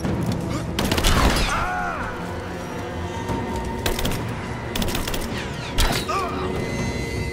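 Gunfire from the video game Rise of the Tomb Raider crackles in short bursts over a constant game soundscape, with a few sharper loud shots and mechanical clatter scattered throughout.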